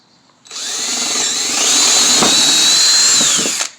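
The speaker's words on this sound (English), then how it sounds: "Drill you a pilot hole" A power drill whirs steadily for about three seconds, close and loud, its pitch rising slightly as the bit bores through wood, then stops.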